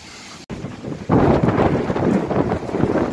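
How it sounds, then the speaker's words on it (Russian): Strong hurricane wind roars and buffets a microphone outdoors, a dense, loud, continuous rush that swells after a sharp knock near the start, with no speech over it. "Там огромный, там ветер такой."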